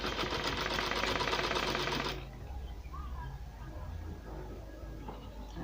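A sewing machine stitches the neckline of nightwear, a fast, steady mechanical whirr for about two seconds before it stops, leaving faint room noise and small handling sounds.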